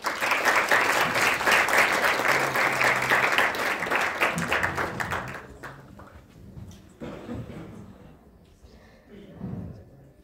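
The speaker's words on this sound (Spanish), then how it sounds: "Así que aplausos," An audience at a student mental health presentation applauds, loud dense clapping for about five seconds that then drops away, followed by a voice speaking and faint room noise.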